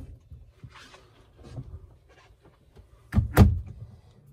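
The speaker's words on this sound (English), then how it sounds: "The bathroom also does have these privacy sliders on the front and the rear, so these doors will just slide" Faint rustles and soft clunks, then a short sliding rumble ending in a firm thud as a light bathroom privacy door slides shut in a 2008 Pleasure Way Lexor RL4 Class B motorhome.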